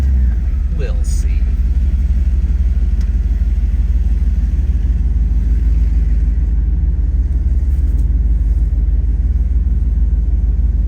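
A 1988 IROC-Z Camaro engine running while the car drives, a loud, steady low rumble filling the cabin throughout with no clear revving changes.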